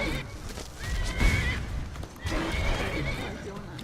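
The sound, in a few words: horse neighing in the video game Skyrim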